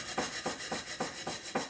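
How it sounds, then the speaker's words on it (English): An Aldi Dishmatic metal scourer scrubs the bottom of a cooking pan in rhythmic back-and-forth strokes, six gritty rasping passes at a steady pace, close and alone. "I'm going to give this metal scourer a go."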